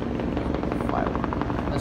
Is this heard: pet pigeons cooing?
no